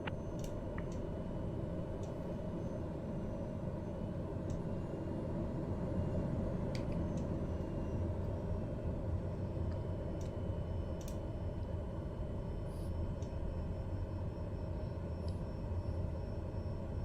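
Aircraft taxiing on the ground after landing in Microsoft Flight Simulator, a steady low engine rumble and hum running continuously throughout, with faint ticking clicks scattered over the top.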